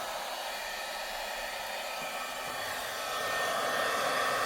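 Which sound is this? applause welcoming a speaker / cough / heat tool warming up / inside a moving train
heat tool warming up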